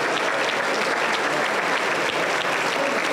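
Sustained, loud applause fills a church during a deliverance and healing service, a thick wash of many hands clapping at an even level throughout.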